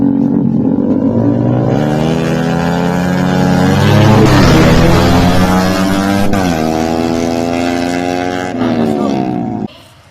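A motorcycle engine revving nearby, loud and steady with rising and falling pitch through a held rev in the middle, then cutting off abruptly at the end.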